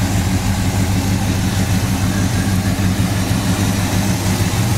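A 1968 Pontiac GTO engine runs steadily at idle, a loud, even low rumble heard close up with no voices.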